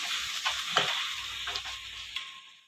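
A spatula stirs a thick wax gourd laddoo mixture in a pan, giving soft scraping strokes with a few sharper scrapes and a faint sizzle underneath, close and quiet, with no talk.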